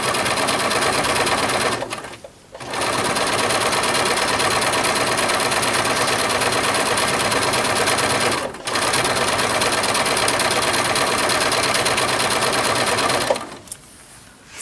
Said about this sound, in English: I'm just going ahead and stitching